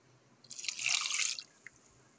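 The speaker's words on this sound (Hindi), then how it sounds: "पानी डालेंगे, थोड़ा और पानी डालेंगे।" Water poured from a small cup into a cooking pot of boiled chickpeas and spices, a close, quiet splashing pour of about a second followed by a single drip, with no talking.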